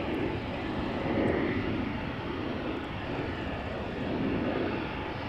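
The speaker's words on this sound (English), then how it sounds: "Over at the threshold we have another Embraer 175 going to Darlington." An Embraer 175 airliner at the runway threshold of Amsterdam Schiphol gives off a steady, broad engine roar that holds at an even loudness throughout, heard from a middle distance with no voices.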